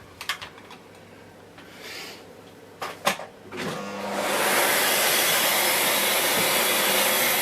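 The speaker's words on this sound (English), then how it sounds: "we need to get the hoover again and get all that out of there" A hoover switches on near a Miele Cat & Dog STB-205 turbo brush after a few clicks and handling knocks, then settles into a loud steady suction roar.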